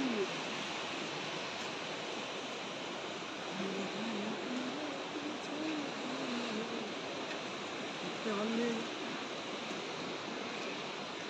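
A large river rushes in a broad, steady roar of flowing water, fairly faint and distant-sounding, with a few soft faint voices now and then.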